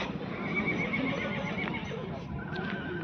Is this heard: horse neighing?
yes